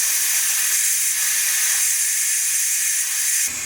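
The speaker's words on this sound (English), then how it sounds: "Quickly release the steam and carefully open the lid." An Instant Pot vents steam in a quick pressure release: a loud, steady, high hiss that holds for over three seconds before cutting off abruptly.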